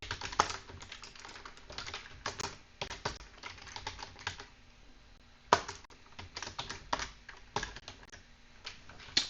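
Code is typed on a computer keyboard in quick, uneven bursts of close, crisp key clicks, with short pauses between runs and no talking.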